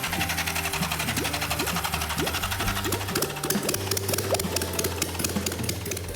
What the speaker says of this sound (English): As soon as I put power to that red wire, like a light switch, it started right up.